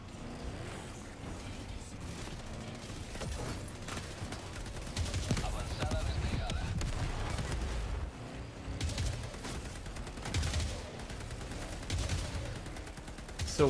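Gunfire from computer-controlled bots in a video game, bursts of shots and rattling fire running throughout at moderate distance, mixed with game noise and a voice talking over it.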